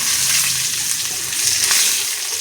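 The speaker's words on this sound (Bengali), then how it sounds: "বন্ধুরা কত সুন্দর করে ভাজা করে নিয়েছি পেঁয়াজটা।" Chopped onions sizzle steadily in hot fish-frying oil with cloves, cumin and a dried chilli, cooked for a stingray curry; a dense, even crackling hiss stays loud and close throughout with no voices.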